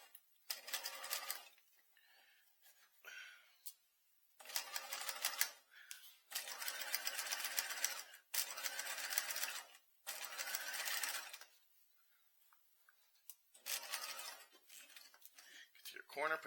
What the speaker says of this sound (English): I'm going to take a couple stitches this way to the edge of my pocket